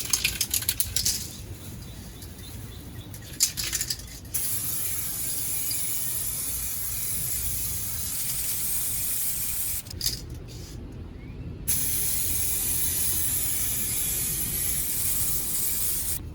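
Aerosol spray paint hissing onto a roof section of a 2011 Jeep Grand Cherokee, coming in long, steady bursts close by, separated by short pauses and faint handling noises.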